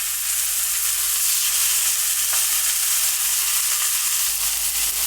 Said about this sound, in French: Dans la poêle, je mets donc un petit peu d'huile d'olive à chauffer.